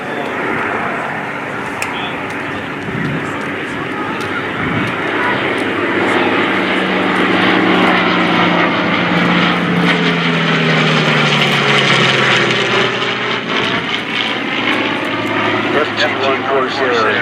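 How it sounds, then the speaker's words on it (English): WWII F4U Corsair and P-40 Warhawk fighters fly past in formation at an air show, their loud propeller engines droning and swelling as they pass overhead while a commentator talks over them. "look at this beautiful formation coming in from the left"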